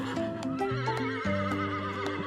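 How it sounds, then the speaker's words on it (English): A horse whinnies with a high, wavering neigh over a steady tonal background, loud and close, lasting a couple of seconds. "It's a horse."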